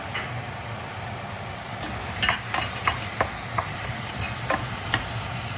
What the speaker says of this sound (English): the butter as well as the garlic is also cooking nicely in here with the mushroom